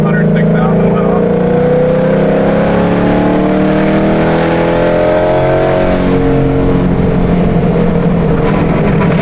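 A Ford Mustang S650 running on E85 with a burble tune revving hard, a loud rising engine roar climbing high before letting off into rumbling. People talk over it.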